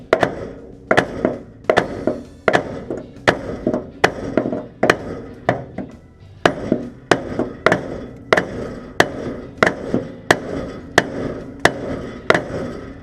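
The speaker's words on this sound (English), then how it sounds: "gonna hammer on the top of this bolt and try to just knock it out that way" Hammer pounding the top of a stuck suspension bolt on a Plymouth Valiant, about seventeen sharp metallic blows in a steady rhythm with short pauses, loud and close, without talk.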